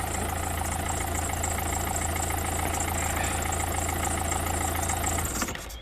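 A Citroen C5 car engine idling steadily with the bonnet open, a close, even low rumble that runs unbroken for about five seconds before it is switched off.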